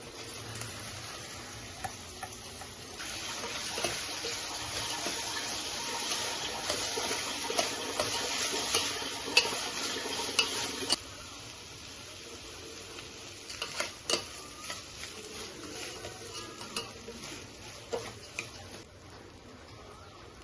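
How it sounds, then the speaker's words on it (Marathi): Rice tips into a pan of egg biryani masala made with Kashmiri red chilli and garam masala and is stirred, a steady sizzle with scraping and ticking spoon strokes that thins out partway through. "तर यामध्ये तांदूळ टाकून घ्यायचे."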